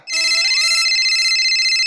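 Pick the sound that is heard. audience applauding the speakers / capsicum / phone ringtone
phone ringtone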